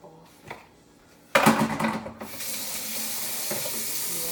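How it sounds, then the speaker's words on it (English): Water runs from a tap to rinse the top of a homemade Kool-Aid container, a sudden loud gush settling into a steady rushing flow after a couple of soft knocks. "I'll rinse the top off."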